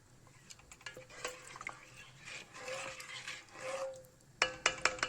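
Biryani is stirred in a metal cooking pot, heard as scattered scrapes and taps of a spoon against the pot. A sharp cluster of clinks and knocks comes near the end, with some wetter swishing sounds in the middle, all at a fairly faint level.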